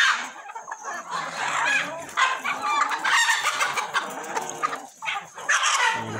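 Chickens released from a farm coop at six in the morning cluck busily and crow, a dense, close, lively chorus of fowl calls throughout.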